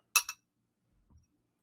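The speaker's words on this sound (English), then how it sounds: "He's just clinking them together." Glasses clinked together twice in quick succession, close and bright, followed by silence and a faint low thump.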